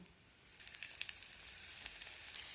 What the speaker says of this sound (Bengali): এখন এগুলোকে তেলে ভেজে নেব।